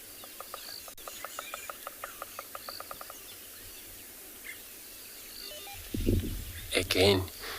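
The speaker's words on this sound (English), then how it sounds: "This bearded woodpecker that you hear knocking that wood." Bearded woodpecker drumming on wood during a South African morning safari, a steady series of about fifteen sharp knocks over three seconds, followed by quiet and a brief burst of other sound at the end.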